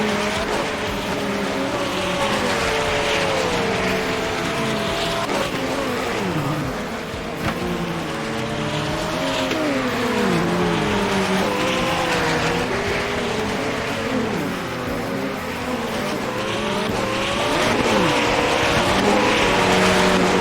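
Several sim racing cars in a hypercar series roar through the Laguna Seca corkscrew, overlapping engine notes rising and falling with shifts, loud and continuous, with tire squeal.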